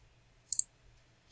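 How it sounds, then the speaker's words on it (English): Two quick computer mouse clicks close together, crisp and fairly close, during ASP.NET Core MVC programming work in Visual Studio, otherwise near silence. "just right click on this and say add view"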